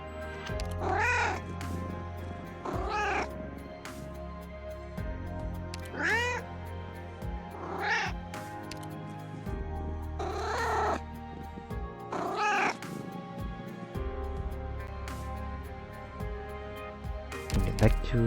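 A talking cat in a video game meows repeatedly, about every two to three seconds, with drawn-out, wavering calls over steady low game background sound, and a player's voice is faintly present.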